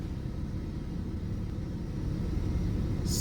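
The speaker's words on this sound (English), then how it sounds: "Engine is running. Now I'm going to take the car for a road test drive" A BMW F36 430d Gran Coupe diesel engine runs on a road test, giving a steady, close low rumble with constant road and tyre noise and no break throughout.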